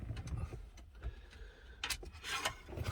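Quiet scraping and rubbing of a screwdriver backing out Phillips head screws beside the radio in a GU Y61 Nissan Patrol, with faint irregular grinding and soft ticks up close.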